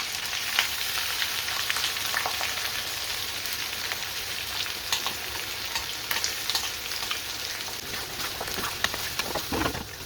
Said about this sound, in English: Next, let's add our korma sauce.